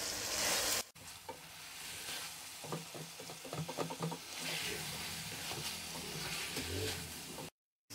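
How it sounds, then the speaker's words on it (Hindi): Onions frying in a kadai for chicken karahi give a steady close sizzle, with a burst of spoon stirring and scraping in the middle. The sound cuts out briefly near the start and goes silent just before the end. "प्याज डालने के बाद हम इसको 2 से 3 मिनट भून लेंगे।"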